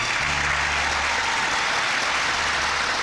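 An audience claps in a continuous, even stream of applause at the climax of a film scene, with a faint low hum underneath.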